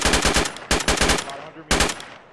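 Automatic gunfire in a realism-unit military skirmish, loud and close, in three rapid bursts of sharp shots with brief pauses between them.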